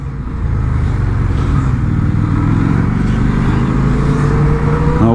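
An Indian Scout motorcycle cruises at highway speed, its V-twin engine droning loud and steady with constant wind rush, rising slightly in pitch near the end as it accelerates.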